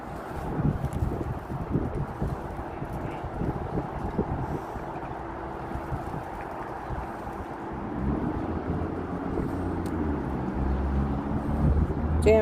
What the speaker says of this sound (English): It's a little bit windy, guys